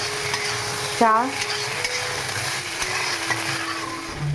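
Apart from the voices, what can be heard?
frying chickpeas and potatoes in a pan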